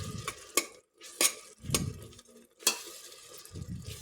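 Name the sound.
ground masala with onion and tomato being sautéed and stirred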